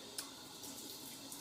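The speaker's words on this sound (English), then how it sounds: "I'm wetting the razor" Tap water runs briefly as a safety razor is wetted before shaving, a faint, steady watery hiss lasting just over a second.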